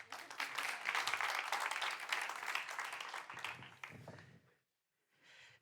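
Audience applause at a French talk about cheese, wine and bread tasting, a dense wash of clapping for about four seconds that thins out, cuts to silence, then comes back briefly and more softly.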